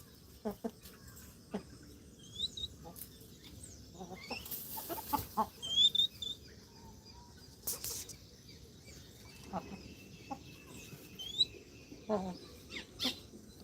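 Soft, scattered clucks from chickens nearby in a quiet outdoor setting, with a few chirps and squeaks and faint rustling between them.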